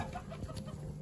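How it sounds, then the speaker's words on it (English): An old hen clucking softly inside a coop during egg collection, a few short low clucks heard close against a quiet background. "But we got the old chicken. She's in here."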